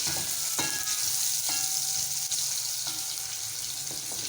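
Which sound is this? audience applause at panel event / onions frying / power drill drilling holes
onions frying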